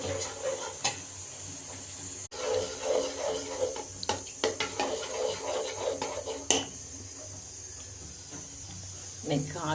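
A pot of ragi flour porridge being stirred continuously as it thickens over boiling water, giving soft scraping and occasional utensil clinks against the pot under steady background hiss, with a voice talking in places.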